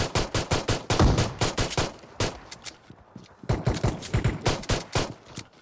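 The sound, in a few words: shotgun gunfire in PUBG Mobile video game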